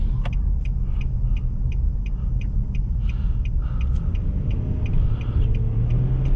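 Engine of a 2019 Nissan Frontier SV V6 pickup truck accelerating, a steady loud low rumble heard from inside the cab while driving, with faint high ticking noises above it and no talking.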